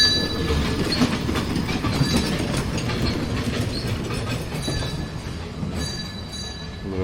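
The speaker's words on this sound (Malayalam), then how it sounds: "ട്രെയിൻ വരുന്നുണ്ട്." A train rolls past close by at a Kerala sightseeing spot, a steady loud rumble of wheels and carriages with rhythmic clacking and faint metallic squeals, continuous throughout.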